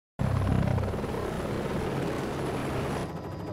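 A helicopter flying over a wildlife reserve on the South African plains, its rotor and engine a loud, steady, close drone that thins slightly near the end, with no talk.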